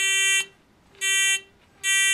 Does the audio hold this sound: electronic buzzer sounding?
yes